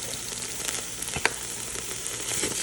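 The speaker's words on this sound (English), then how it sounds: "Now we're going to add some minced garlic." Minced garlic frying with tomato paste in a pot for beef short rib ragu crackles with a close, even sizzle, broken by a few sharp spoon clicks and scrapes.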